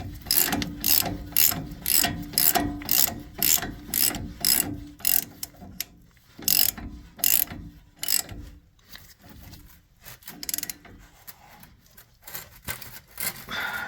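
A ratchet tightens the 13/16 Rough Country supplied nut on an upper control arm of a 3rd gen Toyota Tacoma, giving loud close rapid clicking strokes in rhythmic bursts with brief pauses, and no talking.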